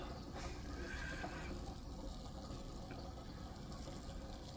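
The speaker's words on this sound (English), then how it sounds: "I figure this thing's gonna be draining for a while." Engine oil drains from a 2019 Hyundai Santa Fe in a steady trickling, splashing stream, faint and continuous without talk.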